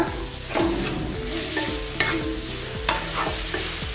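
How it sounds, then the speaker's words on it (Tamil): Cut chicken pieces are lightly sautéed with garam masala in a pan, giving a strong, continuous sizzle with repeated close scraping stirs of a spatula and no talking. "போட்டுட்டு லைட்டாக வதக்கி விட்டுக்கோங்க."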